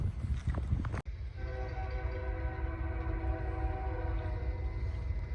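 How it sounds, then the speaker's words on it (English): A train horn sounds with steady tonal blasts over a heavy rumble of a passing train, loud and close throughout. "there's a train coming"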